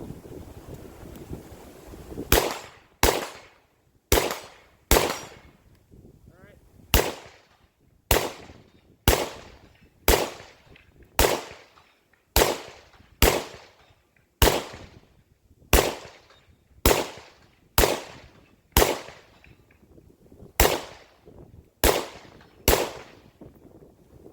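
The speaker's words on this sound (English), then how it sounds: "The point is, let's shoot the gun." PSA AK101 rifle fired outdoors, about twenty sharp loud cracks spaced roughly a second apart in an even slow rhythm, each with a brief echoing tail, and no talking.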